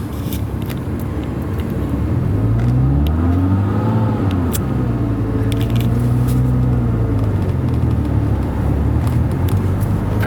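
Manual transmission car pulling away and braking: a steady close engine drone rises in pitch as it accelerates, then settles and holds low and even throughout.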